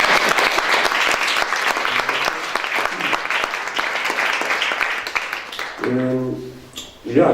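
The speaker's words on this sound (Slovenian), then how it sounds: "To je zdaj trenutek za aplavz." An audience breaks into sustained, dense applause that rolls on for several seconds, then fades as a voice begins speaking near the end.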